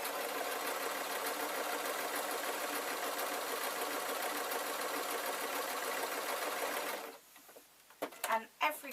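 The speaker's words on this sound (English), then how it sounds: "So all I'm doing here is I'm sewing the pocket flats" Steady, continuous run of a sewing machine stitching linen pocket flaps for a lined waistcoat with a collar, loud and close for about seven seconds before stopping, followed by a few soft handling clicks and rustles.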